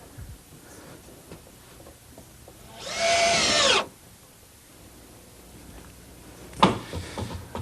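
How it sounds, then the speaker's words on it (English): A power drill drives a single screw into wood in one short, loud, whirring burst of about a second, followed later by a brief clatter amid quiet workshop background. "I'll just hold it in place with one screw."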